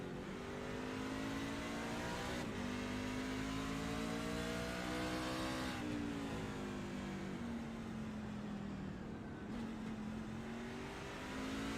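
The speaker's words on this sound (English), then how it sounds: "You can hear him downshifting about mid-corner." Onboard a race truck at Martinsville, the steady engine drone drops its pitch in a few downshift steps mid-corner, loud and continuous, with no talk.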